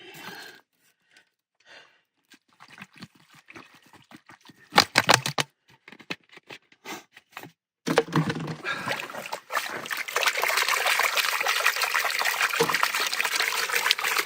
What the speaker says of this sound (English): I'm going to try working that with water.